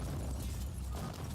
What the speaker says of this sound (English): he's like a foot away from a vehicle explosion